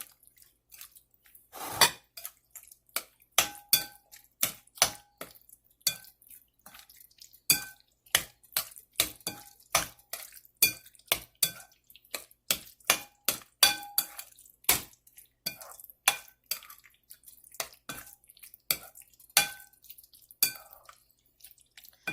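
Chicken being mixed with spices and coriander powder in a bowl, giving a long run of quick, close clinks and wet taps at an uneven rhythm, with no talking.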